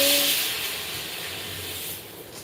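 Steam hisses loudly from a pressure cooker on a stove, a broad, close rushing whoosh that starts strong and slowly fades, with a short faint whistle tone at the very start.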